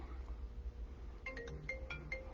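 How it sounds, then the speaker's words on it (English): A telephone at a craft table rings in short repeated electronic trills, fairly faint, starting partway through with no talk over it. "Here we go with the phone again."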